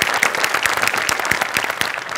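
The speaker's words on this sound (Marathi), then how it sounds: "जोरदार टाळ्या" A studio audience gives enthusiastic applause after a stage sketch on a Marathi comedy show. The dense, steady clapping runs throughout without any talking.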